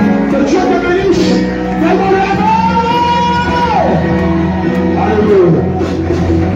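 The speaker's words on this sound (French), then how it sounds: "en poussant des cris de joie et de victoire" Church congregation loudly shouting sustained cries of joy and victory, a dense wall of whooping and yelling voices that holds for the whole stretch, near and strong.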